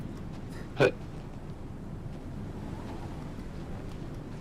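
Strong wind blows outdoors across snow, a steady low rumble of gusts buffeting the microphone, with one brief sharp vocal noise early on.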